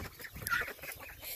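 A few soft chicken clucks sound nearby during a morning animal-feeding routine, brief and fairly faint.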